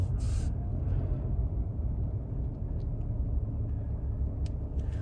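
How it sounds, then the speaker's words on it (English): A Honda Civic rolls slowly onto a lift in a garage, giving a continuous low engine rumble that stays steady and fairly close, with a few faint clicks and no talking. "we're probably just gonna get the Civic in on the lift"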